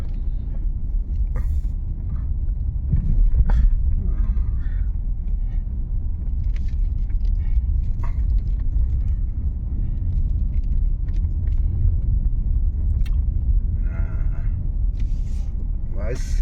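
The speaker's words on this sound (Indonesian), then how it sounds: "Ada truk, bukan mobil gas." A truck rolling along a rough, potholed rural road, a continuous low engine rumble throughout, with voices talking over it.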